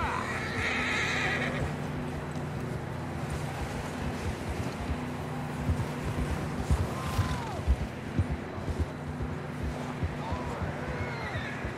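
A horse whinnies loudly near the start in Red Dead Redemption 2, followed by hoof clatter and scattered movement, with faint squeals and a rumbling background throughout.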